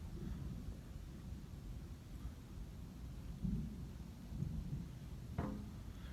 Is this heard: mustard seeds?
no